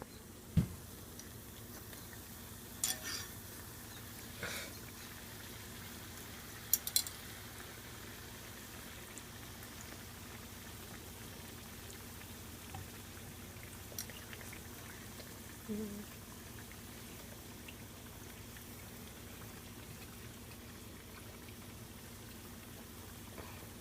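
Soft, steady bubbling and sizzling of doughnuts frying in deep oil runs throughout, with a few faint clicks and pops scattered over the quiet, even hiss.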